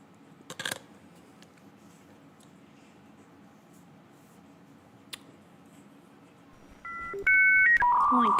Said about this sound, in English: some dial-up